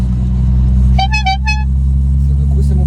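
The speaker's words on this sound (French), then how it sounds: "c'est mon klaxon" A car horn honks in a short burst of toots, close and clear, over a steady low engine rumble from the idling car.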